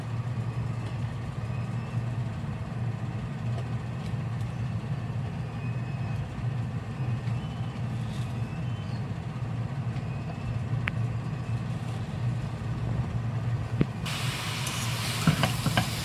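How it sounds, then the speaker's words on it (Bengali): Bottle gourd sizzles faintly in a pan with coconut and moong dal while being stirred, a low continuous frying hiss with soft scraping and one louder burst near the end. "সব লাউটা দিয়ে দেওয়ার পরে ভালো করে এটাকে নাড়িয়ে নেব, উলট পালট করে নেব।"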